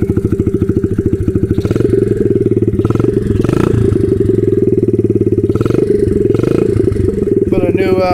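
A Honda 70cc pit dirt bike engine idling close by with a rapid, steady putter and clatter, while someone talks over it throughout.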